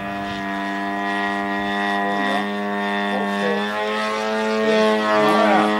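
A radio-controlled model airplane flies overhead at an R/C club field, its small engine giving a steady droning whine that shifts in pitch as it passes, with faint voices in the background.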